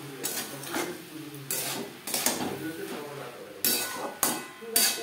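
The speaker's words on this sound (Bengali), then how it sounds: "মশলার সাথে ভেন্ডি বেশ ভালো করে মিক্স করে দেব।" Okra being stirred and tossed with spices in a pan, giving a run of scraping and clattering utensil strokes against the metal, with several sharper knocks, close and moderately loud.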